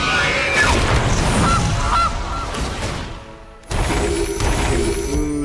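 A goose honk plays in a Magic: The Gathering video game, several loud nasal honks in quick succession with a crashing thud, followed by a brief pause and a further burst of effects.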